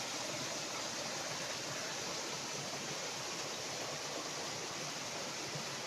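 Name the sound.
clear spring water flowing down a stream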